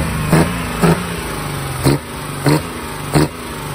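A car engine fitted with a BMW M3 E36 intake blipped five times in quick succession, each rev a short throaty roar rising over a steady idle rumble, close by.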